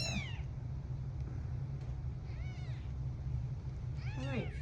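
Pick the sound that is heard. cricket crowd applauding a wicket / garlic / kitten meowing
kitten meowing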